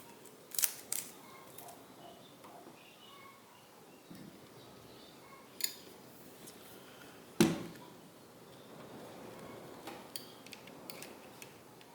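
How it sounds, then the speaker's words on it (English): Blade being fitted into a Ryobi 18V pendulum jigsaw: a few sharp clicks and ticks scattered across a quiet room, one louder snap in the middle, close and sparse. "So let's put the blade."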